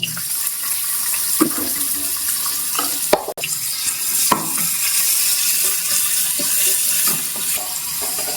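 Fennel seeds and onion fry in hot oil in a pan, a loud continuous sizzle with occasional scrapes and knocks of a stirring spoon, and one sharp clatter partway through.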